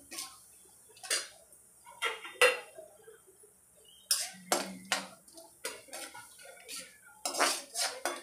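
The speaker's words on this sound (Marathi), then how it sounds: "ह्याच्यातच आपण आता हा दुधीचा पीस घालूया आणि 5 मिनिट आपण भाजून घेऊया चांगला" Bottle gourd pieces being roasted and stirred in a pan for dudhi halwa, heard as scattered metallic clinks and scrapes of a spoon against the pan, irregular taps spread across the clip with quiet gaps between.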